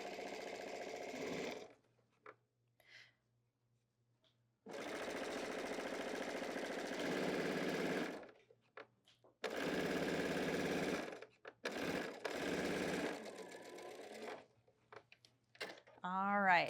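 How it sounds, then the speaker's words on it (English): A sewing machine stitches down the side seams of a fabric tank top in several loud, rapid bursts separated by pauses, with a voice speaking in the gaps. "we're gonna stitch right down the side seams"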